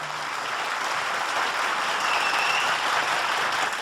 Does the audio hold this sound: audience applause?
yes